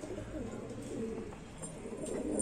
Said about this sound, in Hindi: एक बोरा नया कबूतर दिख रहा हो तो